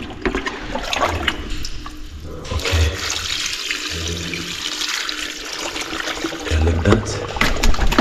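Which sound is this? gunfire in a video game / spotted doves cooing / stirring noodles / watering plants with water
watering plants with water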